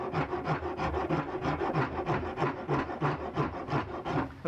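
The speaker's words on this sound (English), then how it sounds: "let's get started with the rasp and get it a bit to shape" A rasp shaping the wooden body of an electric guitar, giving steady, rhythmic coarse scraping strokes about four per second, close and fairly loud with no talking.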